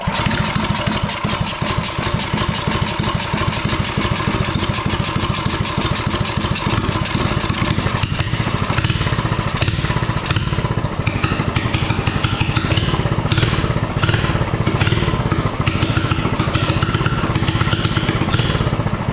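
A drift trike's small pull-start engine runs loudly and steadily throughout, a raspy continuous drone with slight fluctuations in its rumble, running a bit rich.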